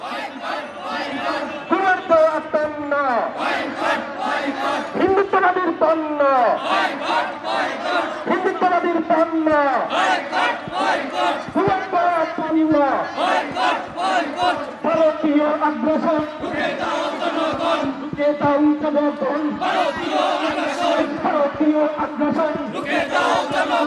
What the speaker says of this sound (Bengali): তারা আজকের এই মিছিল তারা করছে